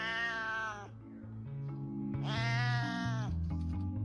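A pet cat meows back in two long, close, loud drawn-out calls, one at the start and one mid-clip, with shorter murmuring sounds between them.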